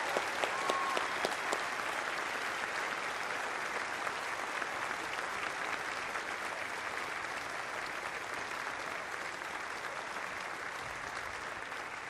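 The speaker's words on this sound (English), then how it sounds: "Give them a big round of applause." Officers, sailors and guests at the keel laying of the future submarine USS Delaware (SSN 791) give a sustained round of applause: steady, even clapping from a large crowd, heard from some distance at moderate volume.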